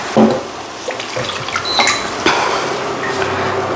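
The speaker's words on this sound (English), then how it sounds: "We're gonna add just a tiny bit of water to this." Water is poured into a hot pan of vegan walnut pasta sauce, sizzling and splashing briefly up close, followed by a steady liquid hiss and bubbling at moderate loudness.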